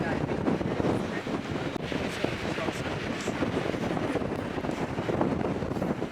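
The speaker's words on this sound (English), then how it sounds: "we're going to find out this morning because the wind is whipping up" Strong wind buffeting the microphone on a freezing mountain summit at Clingmans Dome before sunrise, a continuous loud roaring rumble with no breaks.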